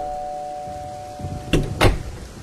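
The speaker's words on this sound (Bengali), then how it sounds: "কলিং বেলটা বেজে উঠল।" A doorbell rings twice in quick succession, a short two-note chime heard indoors over a quiet background.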